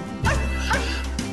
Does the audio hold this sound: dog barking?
yes